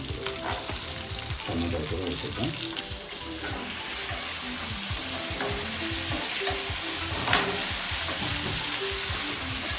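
Tomatoes frying and being stirred in a pan for chapala pulusu fish curry, with a steady, close sizzle and scraping stirs throughout; a faint musical tone sits underneath and there is no talking.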